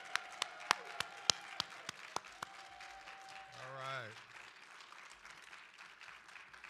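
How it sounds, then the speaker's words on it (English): Sparse, widely spaced claps at a university commencement and hooding ceremony for graduates, each a single sharp clap against a quiet room, with a brief spoken interjection and a sustained tone partway through. "Can we give them one better round of applause"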